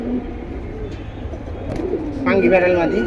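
Pigeons coo at a pigeon market, with low rolling coos near and clear and other birds calling in a busy background.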